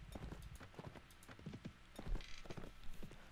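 Horse hooves in the Mount & Blade Floris video game, a rapid run of clip-clopping hoofbeats in an uneven galloping rhythm, fairly close and clear.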